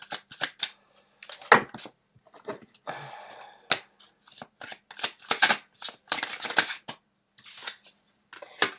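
Tarot cards are shuffled in a run of crisp riffling bursts and soft flicks, close up and fairly loud, coming in uneven clusters with short pauses between them.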